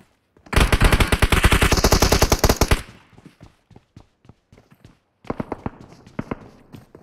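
A sustained automatic burst of gunfire in the PUBG battle royale game at Pochinki, loud and rapid for about two seconds, followed by sparse single shots and then another ragged volley of shots.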